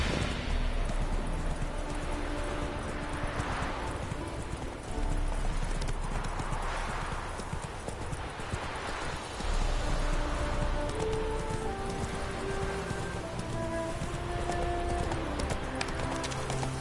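Roach, Geralt's horse in The Witcher 3, gallops with rhythmic hoofbeats under swelling music, with light rain-like rustle in the background and no pauses in the stride.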